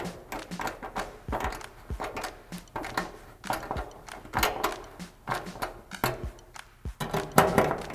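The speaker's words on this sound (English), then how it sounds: "Take your screwdriver and just thread them in." A handheld screwdriver drives two screws into a MORryde StepAbove step light at an RV step opening, giving close, irregular clicking, ticking and scraping taps with short pauses between bursts.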